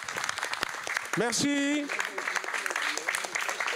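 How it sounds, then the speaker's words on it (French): Audience applause for Amandine at a hip-hop and fashion conference, a steady crowd clap under a brief spoken thanks and a short whooping cheer. "Big applaudissements pour Amandine, s'il vous plaît."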